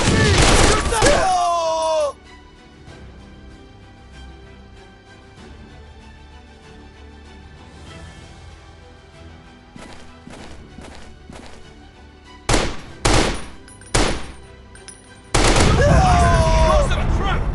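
Bursts of video game shooter gunfire, loud dense volleys at the start and end with a few sharp separate shots in between, while players talk and shout over the action.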